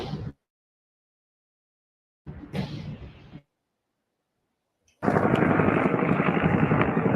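A helicopter in chopper footage, heard in short bursts separated by silence, then a loud, steady roar of rotor and engine noise that runs to the end.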